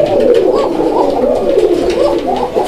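Raj-golla pigeons cooing steadily and loudly, a continuous throaty warbling coo with rolling, overlapping phrases close to the mic and no voices.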